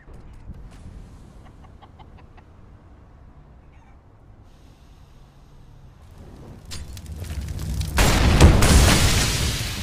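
An incendiary grenade in the Counter-Strike video game ignites after a quieter stretch of faint game sounds, building into a loud, sustained whooshing burst of fire near the end.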